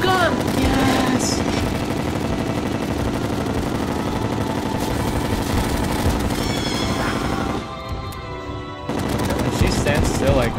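Rapid gunfire from a vortex gun in Terraria during an Empress of Light boss fight, a dense continuous barrage of game effects that drops briefly near the end before resuming, with faint voices mixed in.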